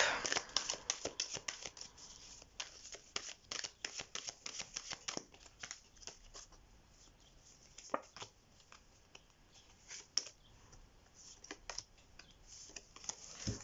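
Oracle cards being shuffled for a dating-themed reading, a quiet, rapid run of light papery flicks and taps that thins out toward the end, with no talk.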